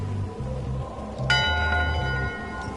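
A ship's bell rings once aboard a pirate ship in Return to Monkey Island, a single clear metallic strike with a long ringing decay over a low rumbling background.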